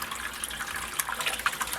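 Water gurgles and splashes as it fills an aquarium canister filter, a steady close hissing rush with small bubbly pops and spatters, no talking.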